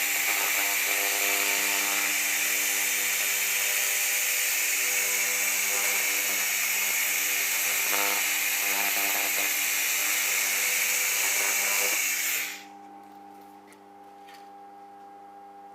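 A laser cleaner scanning metal gives a loud, steady high-pitched hiss and hum for about twelve seconds, then cuts off abruptly, leaving only faint low background tone.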